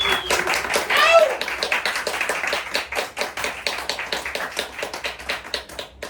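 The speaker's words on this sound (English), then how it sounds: "if we could get a round of applause for Yoshiko and MagYoko" Applause from a small comedy-show audience in Japan, uneven individual claps and taps ringing out close by, starting under a voice with a whistle-like tone and continuing in a loose, irregular patter.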